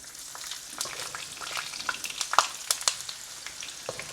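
Potatoes fry in hot oil, a close, moderately quiet sizzle with scattered crackles and pops over a steady hiss.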